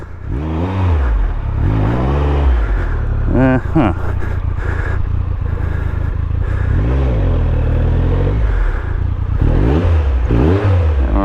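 A Triumph Tiger 1200 motorcycle engine revs hard and loud, stuck in a dirt rut with no traction, its pitch rising and falling in repeated surges with clattering underneath.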